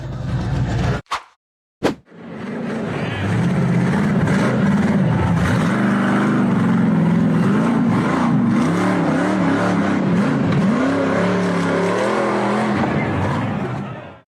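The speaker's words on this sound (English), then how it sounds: "The orange tube frame buggy powered up a slippery dirt hill." An orange off-road tube frame buggy climbs a slippery dirt hill, its engine roaring loud and sustained with fluctuating revs after two brief bursts of noise at the start.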